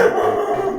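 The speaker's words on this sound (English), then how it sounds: "Sorry about my dog barking." A dog barks in a steady run of yips and barks indoors, close by, behind a makeup tutorial setting; the sound fills the short moment without other talk.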